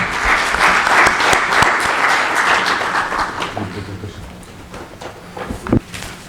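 A conference audience at a regional meeting of heads of anti-corruption agencies bursts into loud, sustained applause that gradually thins out and fades toward the end, with a few scattered claps lingering.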